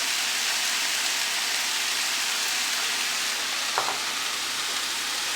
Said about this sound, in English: I'll just give that a quick stir